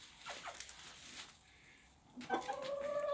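Hens cluck in short, scattered bursts, with a sharper, louder call rising near the end over a steady farmyard hum.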